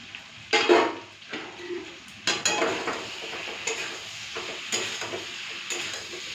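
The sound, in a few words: potato, cauliflower and peas being stirred and sautéed in a pan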